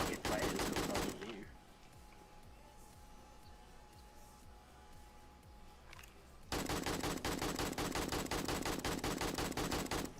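Rapid automatic gunfire from a video game zombie shooter, loud dense bursts at the start and again in the second half, with a quieter stretch of scattered shots and low thuds in between.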